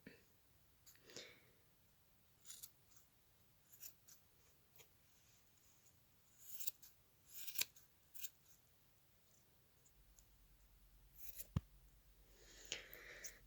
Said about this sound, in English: So we're going to trim those. Just going to trim it up a bit.